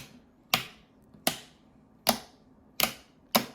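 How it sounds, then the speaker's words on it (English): Switches being flicked on a Sim-Panel button box: five sharp, crisp clicks spaced under a second apart, close and distinct against near silence. "I'll flick all the switches, turn all the dials, just to be sure there's no play in the button box"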